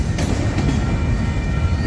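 Freight train rolling past on the rails in St Paul, Minnesota, a steady close rumble with faint wheel clatter and a thin high squeal running throughout, no voices.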